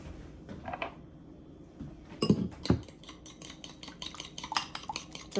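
A fork scrapes and clinks against a bowl while mixing grinder sandwich filling, with repeated close metallic taps and stirring clatter.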